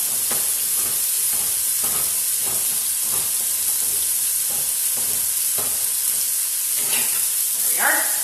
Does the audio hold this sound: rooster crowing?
no